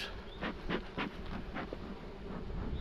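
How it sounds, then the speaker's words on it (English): Honey bees buzz around an open hive in an apiary, a faint, continuous hum marked by a few brief louder swells as individual bees pass close. "that's a lot of bees."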